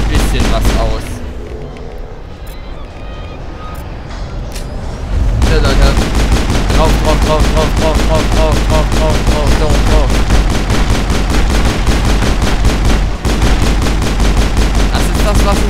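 Sustained rapid gunfire from a Mass Effect firefight, quiet at first and then dense, loud bursts of shots that run continuously, with a voice talking over parts of it.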